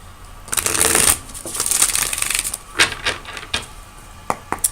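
Tarot cards being shuffled in the hands, a soft papery riffle swelling and fading over a few seconds, followed by several sharp individual card flicks and taps as cards are drawn, close and moderately loud with no talk.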